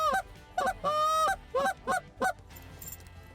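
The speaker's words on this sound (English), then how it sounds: "do a cluck moan combination, because it's the most realistic series of notes that you can do on a goose call" A hand-blown goose call sounds a series of short, sharp clucks and a longer drawn moan, six loud honking notes in an uneven rhythm, close and clear with no voices.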